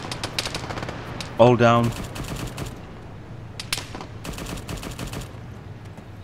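Vehicle-mounted machine gun firing in a military video game, sharp stuttering bursts of automatic fire at a moderate distance, broken into several strings, with a voice briefly talking over the shooting.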